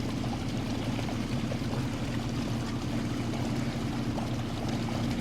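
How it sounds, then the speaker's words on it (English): Fast-flowing water rushing through a two-foot-deep muddy trench around a stuck truck, a steady, dense wash of noise that stays loud and even throughout with no talking. "The water's flowing so fast"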